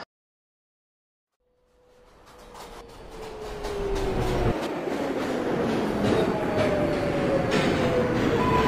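An R142A subway train on the 6 line in the Hmmsim 2 game pulls away from Astor Place: silence, then a rising motor whine and rolling rumble that builds steadily and stays loud and close.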